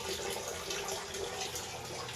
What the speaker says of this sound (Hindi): पानी कितना स्लो आ रहा है